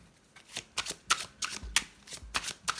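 Tarot cards are laid out and covered one after another, giving a quick series of crisp, faint papery slaps and slides in an uneven rhythm close to the ear.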